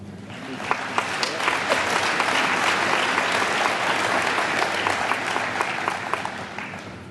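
Audience applause at a 2011 agricultural alumni award ceremony honoring Certificate of Distinction recipients: steady, dense clapping from a large crowd fills the whole stretch at an even level.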